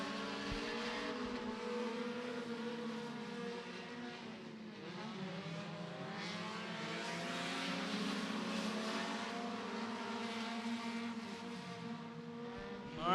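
A compact race car laps Beckley Motor Speedway in qualifying, its engine droning steadily with shifting pitch as it rounds the track, loud and sustained throughout.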